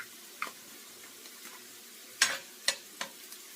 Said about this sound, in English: Okay, so now I'm going to add my garlic.